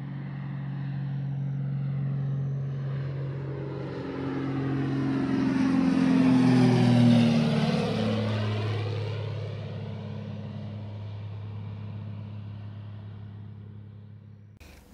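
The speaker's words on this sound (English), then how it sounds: "picked up the faraway sound of a small plane coming closer, closer, till it flew low over the island" Small propeller plane flying low over an island, swelling from a distant drone to a loud pass overhead around the middle, then fading away with a falling pitch; steady engine hum throughout, no voices.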